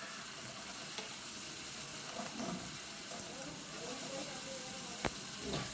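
Ginger paste hits a pan of softened tomatoes and garlic being fried for Bengali alur dom, giving a soft steady sizzle with occasional clicks of stirring, quiet and close.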